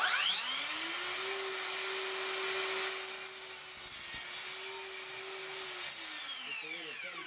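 A 10-inch mitre saw spins up and slices through a 7¼ board in one steady whining cut, the blade pitch dipping under load then winding down at the end, loud and close with no talk.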